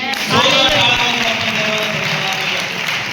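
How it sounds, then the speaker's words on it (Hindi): A church congregation breaks into applause, dense clapping that swells and then holds steady, with a voice talking over it near the start. "ताली बजाओ प्रभु की।"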